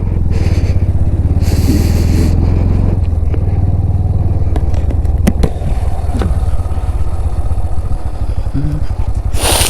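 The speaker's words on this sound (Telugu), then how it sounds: "4th గేర్లో ఉన్న బైక్." A 125cc motorcycle cruises in fourth gear on a solo ride through Ladakh, its engine holding a steady, loud drone with wind rush and brief clatter throughout.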